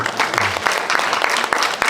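A seminar audience at a church evangelism gathering claps together, a dense, lively burst of applause at close range with no talking over it.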